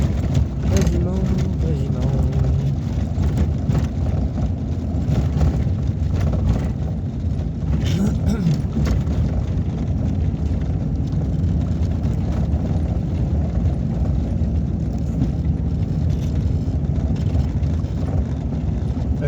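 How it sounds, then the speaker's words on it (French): A Renault Kangoo engine idles with a constant low rumble throughout, and people talk over it. "Ça marche, ça tourne bien ces moteurs de Kangoo."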